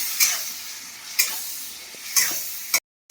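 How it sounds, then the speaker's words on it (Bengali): Spice paste of cumin, turmeric, chili powder and salt being stir-fried in a pan for potato curry, a soft steady sizzle broken by three evenly spaced scraping stirs, close and alone, then an abrupt cut. "দিয়ে আমি মশলাটাকে ভালো করে কষে নিই"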